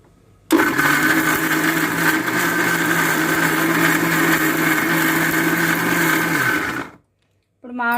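A kitchen mixer grinder blends a coconut and raw mango chutney. A loud, close, steady whirring motor runs for about six seconds and stops, followed by a short burst as it restarts.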